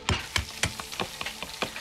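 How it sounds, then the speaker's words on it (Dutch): Food cooking in the video game Resident Evil Village, with a series of distinct sizzling bursts and scraping, stirring strokes in a loose, uneven rhythm, fairly close and moderate in volume. "Ja, de Duke is aan het koken voor ons."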